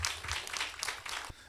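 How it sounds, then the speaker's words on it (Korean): A church congregation applauds to welcome a guest pastor, a short burst of hand clapping in uneven swells that runs briefly and fairly close. "격려의 박수 또 하나님께 영광 돌리는 박수 하겠습니다"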